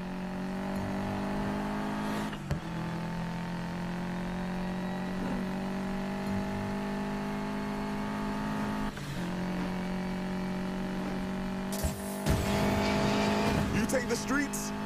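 Cars racing in the video game Need for Speed Payback, with a steady, loud engine drone and layered revving that holds almost continuously, broken by a few brief sharp transients and a rougher burst of tire and engine noise near the end.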